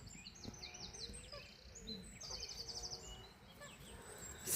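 Small birds chirp and tweet outdoors in a natural setting, with scattered high calls and short trills over a steady low ambient background.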